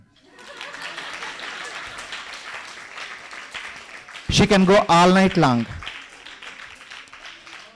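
An audience claps throughout at a Gita recitation event, with a loud voice speaking over the applause midway.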